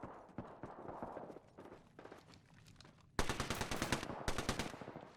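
Rapid video game gunfire crackles in dense bursts, quieter at first and then much louder and denser after a brief gap, with no one talking.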